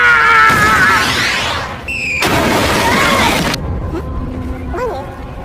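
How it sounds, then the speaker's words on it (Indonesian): A bomb blast in a Japanese samurai anime: two loud bursts of crashing, rumbling explosion noise, the second longer with scattering debris, then quieter high whistling squeals as it fades. "bom tersebut meledak di kedai yang tadi mereka kunjungi"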